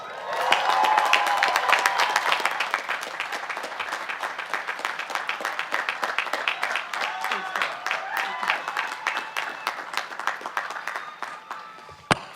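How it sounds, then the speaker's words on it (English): A crowd at a college commencement ceremony applauds steadily, a dense wash of many hands clapping that swells at first and then continues evenly, with a few sharper claps near the end. "let's give another round of applause for Bob Weiss."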